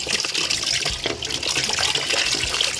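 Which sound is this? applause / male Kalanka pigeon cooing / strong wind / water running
water running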